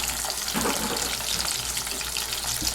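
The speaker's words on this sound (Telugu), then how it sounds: "ఈ మీడియం ఫ్లేమ్లోనే ఈ రొయ్యల్ని ఫ్రై చేసుకోవాలి" Prawns frying over a medium flame for prawn pickle, a steady close hiss and crackle of oil filling the whole clip, with no voices.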